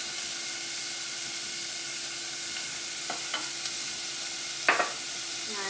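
Vegetables for stuffed peppers sauté in a pan, a steady close sizzle with a few scraping stirs of a utensil near the end and no talking.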